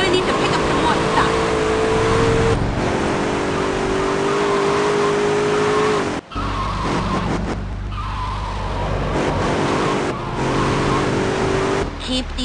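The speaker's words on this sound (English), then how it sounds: "Keep the engine running." A vehicle engine runs loud and close in the video game GTA: Liberty City Stories on iOS, with steady revving and tire skids, a brief cut midway, and busy game effects throughout.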